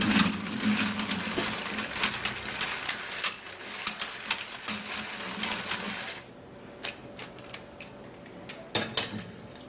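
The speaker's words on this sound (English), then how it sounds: "So I'm going to be using my manual mixer to mix this up so that the egg white can be mixed into this yogurt properly." A manual hand mixer whips egg white into yogurt with a steady, rapid rattling of turning gears and beaters, close and moderately loud, then a short pause before a few final cranks.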